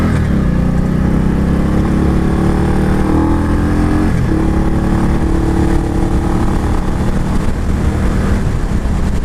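A 2019 Indian Scout Bobber with its 69 cubic inch V-twin, heard riding as a steady, loud engine drone with a brief dip around the middle, constant and up close with no talking.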